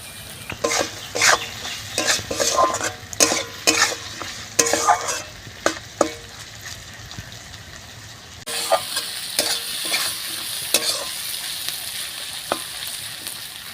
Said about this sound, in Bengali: মাছগুলো খুব ভালোভাবে একটু ভেজে নেব।